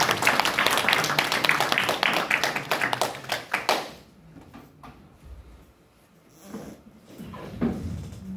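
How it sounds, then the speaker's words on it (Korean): An audience at a seminary lecture hall claps to welcome a speaker onto the stage, several seconds of lively, close applause that tapers off and gives way to quieter room noise and a brief murmur. "우리 나오실 때 우리 박수로 환영해 주시기 바랍니다"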